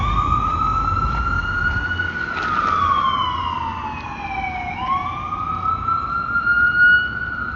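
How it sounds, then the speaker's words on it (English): A wailing emergency vehicle siren rises and falls steadily over constant Toronto street rumble, fairly close and loud, with no voices. "There's the sirens."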